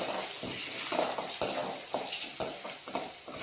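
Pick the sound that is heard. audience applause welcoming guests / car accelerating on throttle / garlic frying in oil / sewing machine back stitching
garlic frying in oil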